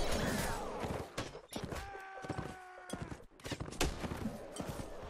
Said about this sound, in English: Damn, these rifles are really strong. Wow, I got blasted.